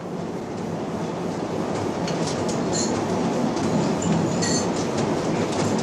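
Passenger train rolling along the rails, a steady broadband rumble with faint clicks and brief high metallic squeals, heard from inside a carriage fitted with a stainless-steel kitchen.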